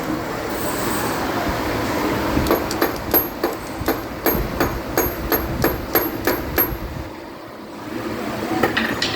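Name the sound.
hammer tapping a stuck car AC compressor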